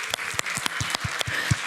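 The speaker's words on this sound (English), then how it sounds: "Big round of applause, guys." A conference audience at CHASM 2024 applauds after a talk, a dense burst of many hands clapping at moderate volume for a couple of seconds.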